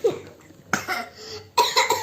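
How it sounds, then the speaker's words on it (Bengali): A child coughs up close at home in two or three sharp, hoarse bursts with short pauses between them, alone and fairly loud. "ও বাবা, কাশি হচ্ছে, কাশি হচ্ছে।"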